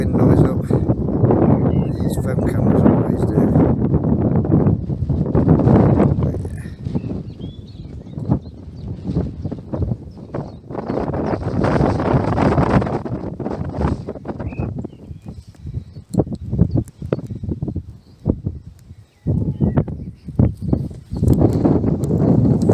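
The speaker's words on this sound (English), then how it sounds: "It is quite windy." Strong gusts buffet the microphone on Burrough Hill, an iron age hillfort 690 feet above sea level, roaring in surges and lulls, close and loud, with people talking over it.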